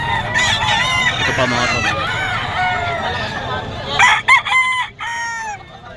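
A White Kelso gamefowl rooster crows loudly and close, its calls rising and breaking, and several more crows and clucks follow in bursts. Someone speaks briefly during the calls.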